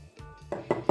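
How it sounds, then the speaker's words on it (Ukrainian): Utensil clinking and scraping in a bowl as meat patty filling is mixed with dill and melted butter, three short knocks growing louder toward the end, close and alone. "І зараз все гарненько перемішуємо."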